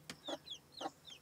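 A broody hen clucks softly at close range, a few short throaty clucks over about a second, with faint chirps between them.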